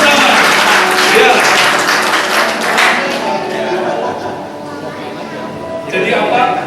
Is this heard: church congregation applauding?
yes